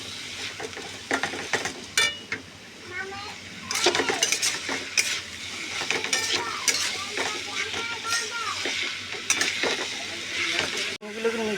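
Chopped ash gourd fries in spiced oil in a wok while a metal spatula stirs and scrapes repeatedly, sharp clinks and scrapes over a soft continuous sizzle, close and loud.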